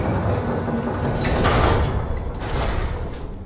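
In the sci-fi horror video game SOMA, a door slides open with a loud, steady mechanical rush of noise that swells and then eases off over a few seconds, with no talk.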